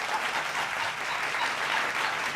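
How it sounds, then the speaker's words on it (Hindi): Loud, steady applause from an audience at a Hindi satirical poetry gathering fills the whole stretch as a dense, even wash of clapping with no voices on top. "तालियां जोर से बजा दो,"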